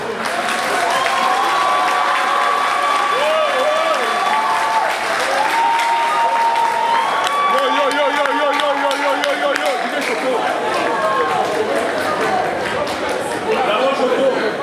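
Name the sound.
audience applause for a DJ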